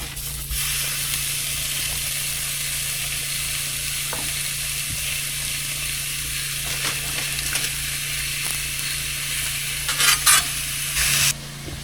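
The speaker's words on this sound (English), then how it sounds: "while that stew meat's browning" Stew meat browns in melted butter inside a Dutch oven at a dispersed campsite, giving a steady close sizzle and frying hiss throughout, with a few soft clinks and stirring scrapes near the end.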